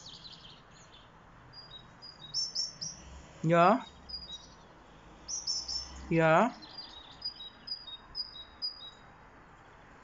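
A common blackbird gives two loud, sharp descending call bursts a few seconds apart, with fainter chirps in between; a voice speaks briefly in the background.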